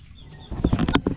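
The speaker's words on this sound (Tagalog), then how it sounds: "Native na manok, may puti, brown, tsaka pula." Native chickens on a farm give a short run of low clucks, close and fairly loud after a brief quiet start, with no speech.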